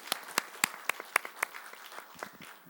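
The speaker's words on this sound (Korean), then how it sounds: "우리 하나님께 영광의 박수 올려드리겠습니다." A small church congregation at a Friday late-night service claps together in distinct individual strokes, about a dozen spaced claps that trail off over a couple of seconds, fairly quiet.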